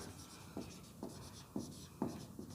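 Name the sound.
writing on a board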